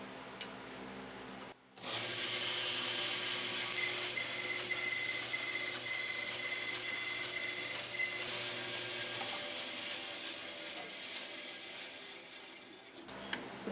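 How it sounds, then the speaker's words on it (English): A bandsaw cuts a yew wood atlatl blank, starting with a short motor whine, then a sustained rasping cut with a shifting pitch before the blade runs free and stops. "And I'm just gonna cut it out on the bandsaw."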